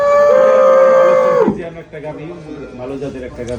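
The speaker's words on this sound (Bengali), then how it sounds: "হলিস্টান ফ্রিজিয়ান জাতের একটা গাবি" A Holstein Friesian dairy cow gives one long, loud moo up close, followed by people talking nearby.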